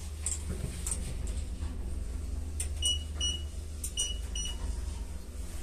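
An elevator in a residential building in Istra, made by KMZ, gives several short, high electronic beeps while arriving. The beeps come in small clusters over a low mechanical hum.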